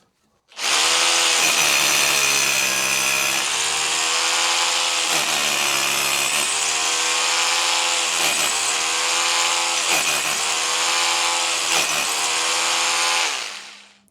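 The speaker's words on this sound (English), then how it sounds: "As soon as you hear the drill struggling a little bit, just back out" A power drill whines steadily and loudly for about thirteen seconds, boring into concrete, its pitch dipping briefly several times as it struggles.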